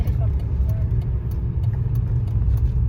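Car interior road noise while driving, a steady low rumble of engine and tires, with people talking over it.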